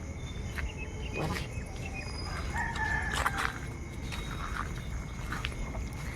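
A rooster crows at moderate distance amid outdoor noise on a farm with chickens, ducks and turkeys, with scattered bird calls and faint footsteps around it.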